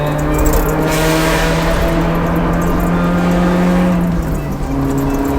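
A Honda CR-X del Sol with a B16A VTEC engine revs loudly and steadily, its engine note holding a high sustained pitch before easing slightly near the end, with no talk over it.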